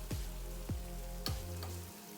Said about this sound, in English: Boy, it started frying.